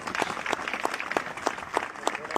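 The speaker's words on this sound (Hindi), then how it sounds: "इनके लिए तो तालियां बजनी चाहिए सभी के लिए" Audience applause at a direct-selling company event honouring freshers who won a trip, a moderately loud steady patter of many hands with faint crowd murmur and no clear talk.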